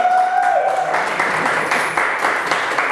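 Listeners at a talk on reparations burst into applause, a dense crowd clapping that swells after a fading tone and keeps going steadily.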